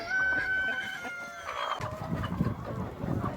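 Chickens and a rooster on a forest farm clucking as the flock gathers, a crow fading early, then busy close clucks and rustling.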